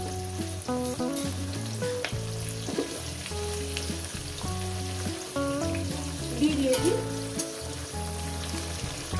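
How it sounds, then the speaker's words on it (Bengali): Bitter gourd fries in oil with a soft, continuous sizzle while background music plays over it throughout. "এই করলাটা ভেজে অল্প অল্প করে লবণ ছিটিয়ে আমি এটাকে ভেজে নেবো"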